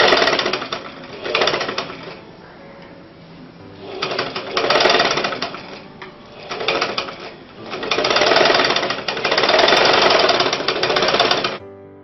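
Sewing machine stitching pieces of a sleeveless umbrella frock together, running loud and close in several rapid whirring bursts with short pauses between them.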